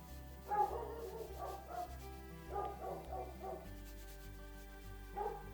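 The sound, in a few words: dog barking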